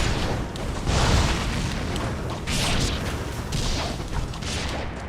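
Explosions in Ninja Gaiden Sigma 2 roll on as a loud, continuous wash of rumbling booms and crackling bursts, swelling several times with no speech.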